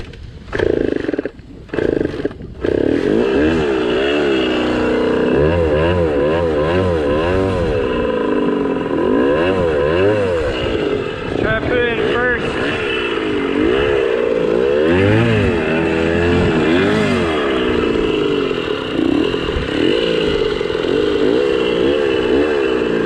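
Kawasaki KDX80 dirt bike engine catching after a few starting attempts, then running loud and close with a rough two-stroke rattle and repeated rising and falling revs throughout.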